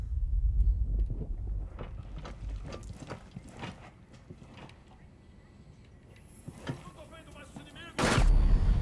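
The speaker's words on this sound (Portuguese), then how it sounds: "Granada, o cara jogou." A grenade goes off in a realistic-mode hard-difficulty shooter game round, a sudden loud burst near the end after a stretch of quieter gunfire, clicks and mechanical game sounds, with some talk.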